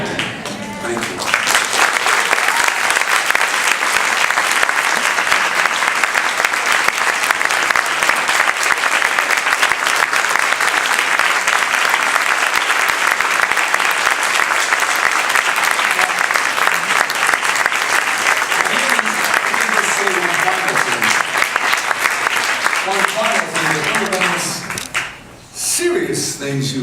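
Loud, sustained applause from a large crowd at an awards luncheon fills the room for over twenty seconds, fading slightly near the end as a voice begins.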